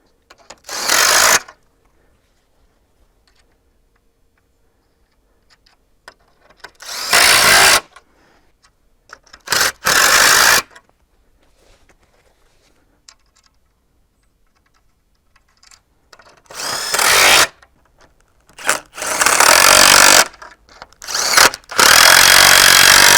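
A power drill drives screws through small wooden struts into the lower triangles at the center of a 2V geodesic dome, in several loud, separate bursts split by quiet pauses, with more frequent bursts near the end.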